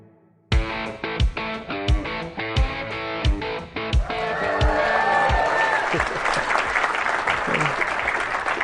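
An audience at a Red Deer event claps and cheers in a loud, dense burst of applause that follows a run of sharp rhythmic music hits and swells into sustained crowd noise.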